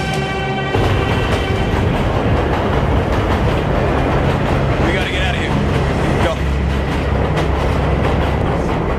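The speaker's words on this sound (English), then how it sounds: "This is the train!" A train rumbles loudly along the tracks with a continuous heavy roar and rattling wheels, close and dominant throughout, while people shout briefly over the noise.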